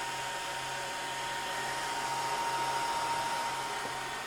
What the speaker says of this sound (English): you can maybe hear the fan running